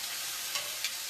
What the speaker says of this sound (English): Cast iron is gonna give you the best sear.